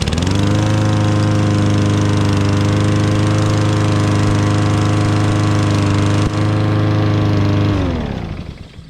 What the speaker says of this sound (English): And start up the lawnmower.